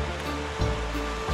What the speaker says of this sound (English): A lot of water in the Borden Creek today.